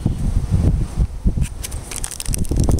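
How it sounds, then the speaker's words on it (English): Wind blowing outdoors in Portland, Oregon, buffeting the microphone in uneven low rumbling gusts and crackly rustles that come and go over a few seconds. "Sorry if you guys can hear the wind."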